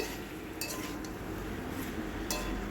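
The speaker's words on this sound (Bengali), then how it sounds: "মশলাটা দিয়ে ভালো করে সবজিগুলো দিয়ে কষিয়ে নিচ্ছি" Vegetables with spices are stirred and fried in a pan, with a steady low sizzle beneath a few bright metallic clinks of a utensil against the pan, close by and without talk.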